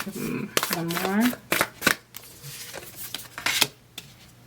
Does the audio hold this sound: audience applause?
no